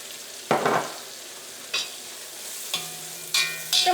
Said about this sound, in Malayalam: ഇപ്പോൾ മഞ്ഞൾപ്പൊടി വെളിച്ചെണ്ണയിലൂടെ നന്നായിട്ട് മുരിഞ്ഞിട്ടുണ്ട്.